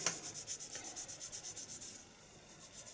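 A fine sanding stick rubs rhythmically over a Tau Fire Warrior miniature, producing quick, even back-and-forth scratching strokes up close for about two seconds, then easing off.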